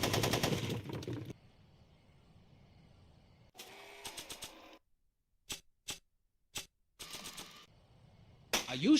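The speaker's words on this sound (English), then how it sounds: "Are you shooting at me?" Gunshots in a film scene crack out in a dense burst of rapid fire, then scattered single sharp reports separated by silence, ending with a final loud volley.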